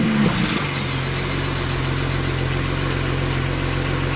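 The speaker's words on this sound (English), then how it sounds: "let's go show them how it sounds like with the stock mufflers on" A BMW engine idles steadily with stock mufflers, not a cold start: a loud, even low drone close by, with a brief blip at the very start and no talk.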